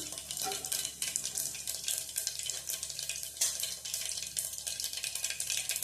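Mustard seeds and cumin sizzle in hot oil, a dense bright crackle and hiss with rapid popping, steady and close throughout with no voices.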